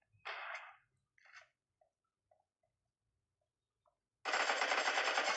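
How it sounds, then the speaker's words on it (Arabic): Machine gun firing in an online shooter game: a long, loud, dense burst of rapid automatic shots near the end, after two shorter bursts and a few faint clicks, with no talking. "انا معايا رشاش."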